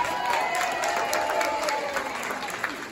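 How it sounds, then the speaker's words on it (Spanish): Applause from the audience at a Dominican heritage month celebration breakfast, steady, close clapping with some crowd noise, holding throughout without a break. "vamos a darle un gran aplauso también."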